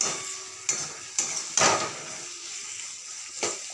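Spiced curry stirred and fried in a pan, a steady sizzle broken by several sharp clanks of a spatula against the metal, spaced about every half second to a second.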